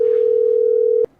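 A telephone gives a steady, continuous dial tone for about a second while a call is being placed, then it cuts off with a short click, with no voices.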